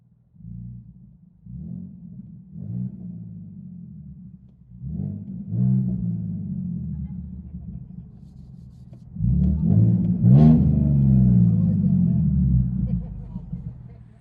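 Ford Mustang 3.7L V6 with a loud aftermarket exhaust heard from inside the cabin, a deep low rumble swelling with several short revs and then a longer, louder hold.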